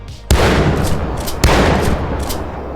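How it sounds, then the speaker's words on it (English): A pump-action gun firing in a video game: two loud, close booming shots about a second apart, each followed by a long rumbling tail. "And now you can shoot it like a pump action."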